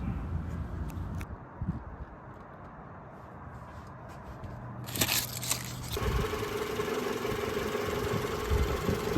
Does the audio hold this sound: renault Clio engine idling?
yes